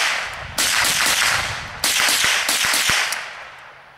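Sharp gunshots from a .38 Special revolver, .22 rifle or .30-06 rifle fired outdoors, two loud cracks about a second apart followed by several quicker reports, each with a lingering echo tail.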